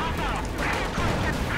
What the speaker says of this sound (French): Il y a du canon, Youn, casse-toi.